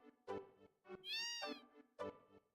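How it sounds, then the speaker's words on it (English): A cat meows in a Final Fantasy VII scene set in the cold town of Icicle. There is one clear, drawn-out meow with a rising and falling pitch in the middle. Quieter game sounds or voice-like bursts come before and after it. "Kitty cat."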